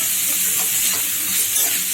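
Carrot and capsicum being stirred and fried in a pan, giving a loud, constant sizzle with scraping from the stirring and no voices over it.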